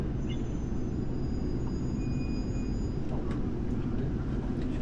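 Steady loud rumble of a Dubai Metro train running, with a constant low roar and faint high-pitched tones over it, no talking.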